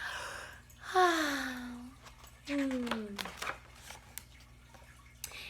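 A person's voice imitates a fawn's yawn during a children's story reading, producing two drawn-out, falling breathy yawns close to the microphone, separated by a short pause, followed by soft rustling.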